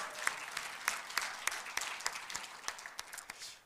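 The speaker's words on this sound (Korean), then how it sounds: "기왕에 쳐주는 박수라면 내가 어디 가서 이런 박수를 받은 적이 없다라고 할 만큼 그렇게 큰 박수를" An audience at a teachers' seminar applauds with scattered, uneven clapping, individual sharp claps standing out over a quieter wash, fairly soft and without talk.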